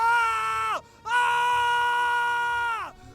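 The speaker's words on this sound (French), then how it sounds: "il commence à hurler." A man screams in a dramatized sound effect, two long sustained anguished cries with a short break between them, loud and close with no other talk.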